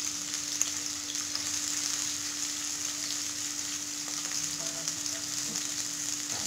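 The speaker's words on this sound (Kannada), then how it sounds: "ಹಾಕೊಂಡು ಚೆನ್ನಾಗಿ ಫ್ರೈ ಮಾಡ್ತೀವಿ, ಚೆನ್ನಾಗಿ ಫ್ರೈ ಮಾಡಬೇಕು" A generous amount of onions frying in a pan for tamarind rice, a fairly faint, even hiss of oil that holds steady throughout, with only a faint constant hum behind it and no voices.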